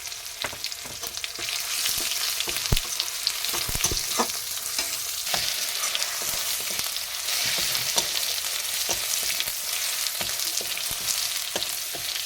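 Kashmiri chili sizzles in hot oil in a pan while cooking a tangra fish curry, a steady bright crackle with scattered pops and occasional stirring scrapes, close and continuous throughout with no talk.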